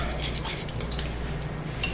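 A bath bomb mixture being stirred in a bowl, with light metallic clinks and scrapes of a utensil repeating a few times over a low steady hum.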